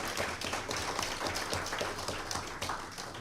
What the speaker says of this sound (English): Even got my officers clapping you